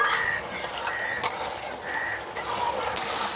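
Mustard spice paste for shorshe pabda fish frying in a pan, a steady hiss and sizzle with brief clinks of a utensil stirring against the pan.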